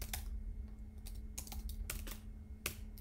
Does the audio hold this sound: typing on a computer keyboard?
yes